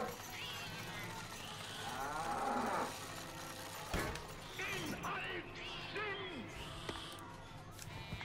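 A cartoon cow moos in South Park: The Stick of Truth, a drawn-out low bellow over steady game music and sound effects, with someone talking during play.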